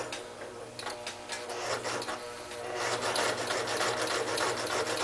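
A sewing machine stitching a fabric phone pillow runs in a steady, rapid whirring stream that grows slightly louder toward the end, close by, with no talking.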